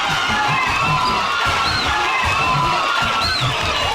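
A lively crowd cheers and shouts at Splash Mountain as Ernest arrives, with whoops and children's voices rising over a steady, dense roar that stays loud throughout.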